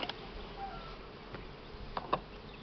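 Honey bees droning steadily around an open beehive while frames and supers are handled, a low continuous buzz with a few brief closer passes, alone without talk.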